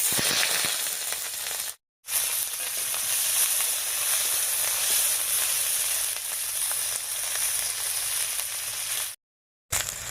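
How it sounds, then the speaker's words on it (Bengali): Chopped onion and slit green chillies fry in hot mustard oil in a wok, giving a loud, steady sizzle that runs close and continuous, broken by two brief silent gaps. "তেল গরম হয়ে গেছে, এবারে তেলের মধ্যে দেব পেঁয়াজ কুচি আর চেরা কাঁচা লঙ্কা।"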